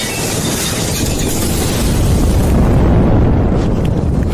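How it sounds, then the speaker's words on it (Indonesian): Massive explosion tearing through an underground garage full of cars, a dense, sustained roaring blast with rumbling low end that stays loud and unbroken throughout, no voices. "Semuanya meledak."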